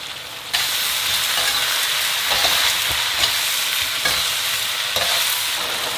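Pork stir-fried with garlic slices and chili in a pot, starting with a loud sizzle that runs steadily, broken by periodic scraping tosses.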